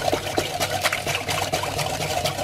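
Oat milk pours into a mixing bowl of melted butter batter with a continuous close liquid splashing and trickling, steady throughout and without talk.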